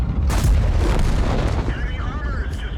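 Tank cannon fire in a World of Tanks style battle with an Object 277, a heavy booming blast with a rumbling tail, loud and close, over game ambience.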